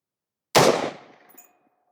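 A new rifle being sighted in fires a single loud shot that cracks sharply out of silence and then fades in a ringing tail lasting about a second.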